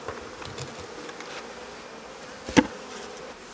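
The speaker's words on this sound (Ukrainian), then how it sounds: "Все, тут залишилося буквально три бджілки." Honey bees buzzing around a hive frame at an apiary in autumn, a continuous close droning hum with a single sharp knock partway through, with no talking.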